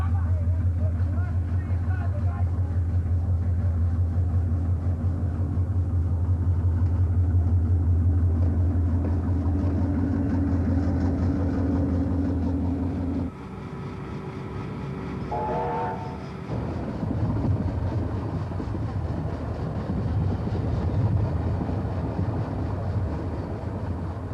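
Steam locomotive 3801 hauls the eastbound Indian Pacific near Parkston, outside Kalgoorlie, in the early morning, giving a steady, heavy low rumble that shifts character about halfway through.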